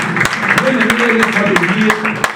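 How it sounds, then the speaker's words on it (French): Church congregation at a Sunday worship service applauding together, a steady wash of clapping with sharp individual claps standing out, mixed with voices and sustained musical tones underneath. "Acclamons très très fort pour la gloire de notre Seigneur Jésus-Christ"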